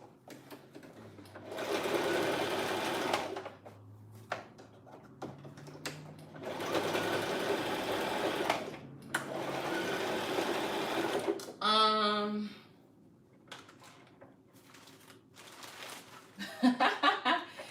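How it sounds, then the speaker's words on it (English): A sewing machine runs in several long bursts of steady whirring, separated by pauses, with rustling and handling noises in between and a brief squeaky sound near the end. "At least Jada can practice sewing on the second machine."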